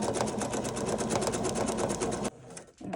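A sewing machine stitches a snowflake specialty stitch along a seam, fast steady needle chatter, close and loud, for over two seconds before stopping abruptly, followed by a few faint handling sounds.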